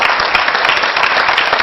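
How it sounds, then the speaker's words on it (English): Audience applause at a City Hall event honoring a veteran, a dense, steady wash of clapping from a crowd that holds level without pause, loud and continuous throughout. "let's give him a round of applause"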